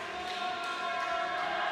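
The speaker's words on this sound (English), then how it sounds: "People cheering him on." A crowd cheers at swimming trials in an indoor pool venue, a steady, moderately distant roar of voices sustained throughout.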